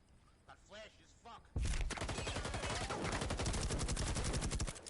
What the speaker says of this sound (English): Shots being exchanged.